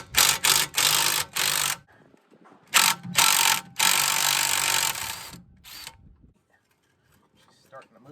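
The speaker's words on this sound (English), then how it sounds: "I'll just put the impact on the nut this time around." Impact wrench loosening a 22mm CV axle nut on a 1999 Infiniti QX4 / Nissan Pathfinder, several loud, close rattling bursts with short pauses between, then quieter clicks and faint talk.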